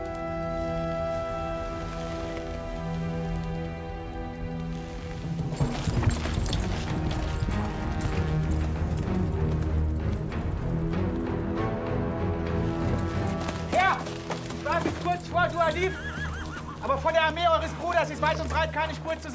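Horse hooves in a dramatized film about Charlemagne, a dense galloping clatter that starts a few seconds in and continues under music, with a whinny and voices near the end.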